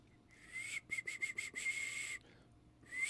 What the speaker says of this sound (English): Let me try a whistle out here.